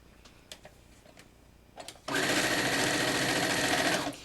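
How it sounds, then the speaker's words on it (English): A sewing machine chain-sews rows of a Triforce mini quilt, starting after two seconds of quiet clicks and running steadily and loudly at a close, even, fast hum for about two seconds before stopping. "to continue on chaining, I'm going to sew these 2 rows"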